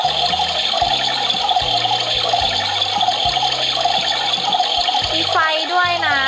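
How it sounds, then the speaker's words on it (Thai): A toy Barbie washing machine plays its running-water sound effect, a continuous gurgling flow under a stepping electronic melody with a rising whistle near the end, loud and close, while someone talks over it. "แบบเสียงน้ำไหลนะแล้วก็ตัวเครื่องข้างในนะคะปั่นได้จริงๆนะคะ"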